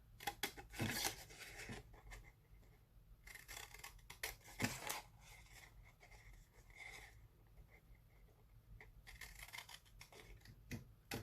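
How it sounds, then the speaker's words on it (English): Scissors snipping through paper up to a score line while making an Easter gift basket, quiet close cuts in irregular bursts with pauses between, faint and alone. "you want to cut just to the score line"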